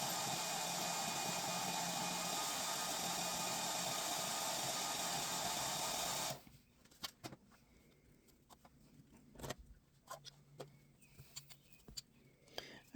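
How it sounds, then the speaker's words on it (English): A steady, loud hair dryer blows for about six seconds, drying paint on a craft piece, then cuts off, leaving faint clicks and quiet handling noises. "I took a blow dryer and made sure that my paint was completely dry"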